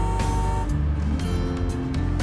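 A car drives close behind, producing a steady, loud engine and road drone with a constant low hum throughout.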